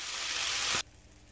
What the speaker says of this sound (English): These sausages are browned to perfection. So let's get these out of this pan.